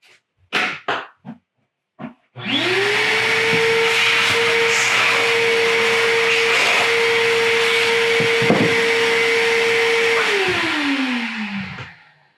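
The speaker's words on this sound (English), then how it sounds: "Let me vacuum this off real quick and do that for a second." A few clunks and knocks come first, then a vacuum cleaner starts up and runs with a loud, steady whine for about eight seconds before spinning down. No one speaks.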